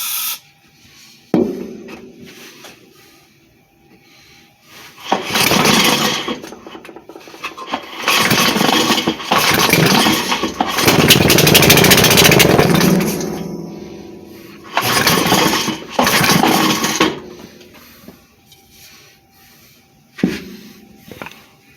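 A 5 hp Briggs and Stratton small engine with no muffler is cranked, then catches and runs in loud rough bursts. Spells of harsh, close, unmuffled roar alternate with quiet gaps and pull-start rattles.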